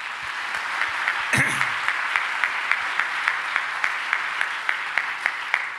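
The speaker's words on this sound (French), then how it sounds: "on doit les applaudir" An audience at a general council presentation in Québec claps in a steady, even rhythm of distinct hand claps, moderately loud and continuing alone throughout, with one brief louder burst near the start.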